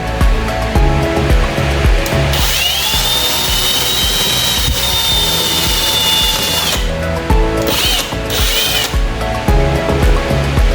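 A power drill whines loudly and steadily, spinning up and winding down in bursts amid clattering and rattling.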